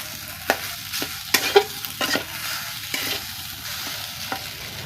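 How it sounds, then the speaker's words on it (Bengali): Food in a cooking pot is stirred slowly in a village kitchen, with spaced, rhythmic scrapes and knocks of the spoon against the pot over a soft, steady sizzle. "এইভাবে ধীরে ধীরে এরকম করে নাড়তে হবে।"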